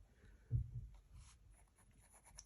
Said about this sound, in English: I'm going to just slightly sketch in